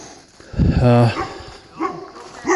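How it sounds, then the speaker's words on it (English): A dog approaching hikers on a trail, giving a short run of close, whiny yips and bow-wow barks that rise and fall, followed by a couple of fainter yelps, with people talking nearby. "Here comes the dog."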